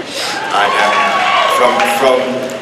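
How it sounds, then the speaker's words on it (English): Audience at a Comic-Con 2006 panel for the film 300 cheers and whoops loudly, a dense crowd roar building and holding steady for a couple of seconds. "Your buttocks just got a cheer."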